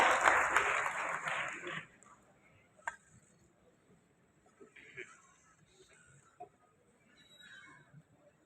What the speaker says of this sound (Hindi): माननीय श्री संदीप सिंह, एक बार जोरदार तालियों के साथ अभिनंदन वंदन स्वागत।